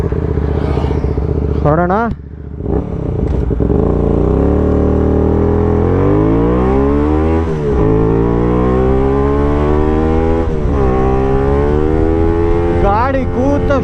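A Hyosung GT250R 250cc sport motorcycle starts and is revved hard several times, its engine note climbing and falling in loud, close sweeps while someone speaks briefly over it.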